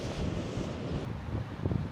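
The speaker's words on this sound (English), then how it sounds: "So windy." Wind buffets the microphone in low, rumbling gusts on the South Hams coast, with a faint wash like distant surf beneath.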